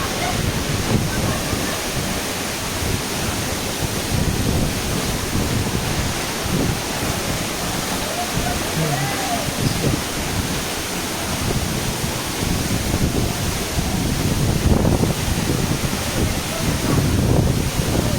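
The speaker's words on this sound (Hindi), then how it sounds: "तो यहाँ से कुछ ऐसे लगते गौधस वाटरफॉल के नीचे में" Godhas waterfall in Nuapada, Odisha, heard from below the falls with spray drifting over the camera: a steady, dense roar of falling water that fills the whole stretch without letting up.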